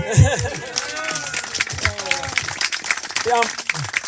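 Family members applaud at a mother's 90th birthday party, a scattered patter of claps running under lively chatter and overlapping voices in a room, moderately close.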